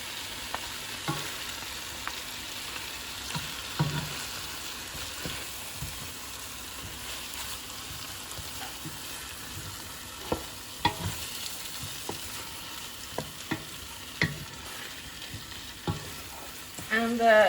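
Tomato paste sizzles steadily in a hot pan while being stirred for Saudi chicken kabsah, with scattered scrapes and taps of a spoon over the continuous frying hiss and no voices.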